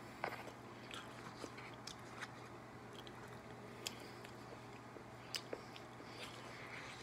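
Someone eats bread pudding with caramel sauce and ice cream from Famous Dave's, making soft, faint, close chewing and occasional sharp little bites and mouth clicks over a quiet background hum.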